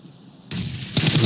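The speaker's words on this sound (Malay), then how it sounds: "Oh, tembakan yang tidak begitu tepat daripada Snipes." Gunfire in a PUBG Mobile esports match, the PMPL SEA Finals, with two sharp bursts of shots that grow louder and denser toward the end, heard without talk.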